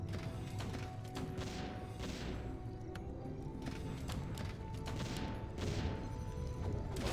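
Mortar teams firing during a Warcraft III pro match, a steady run of dull thumps and crashes layered over dense battle noise, with no talk.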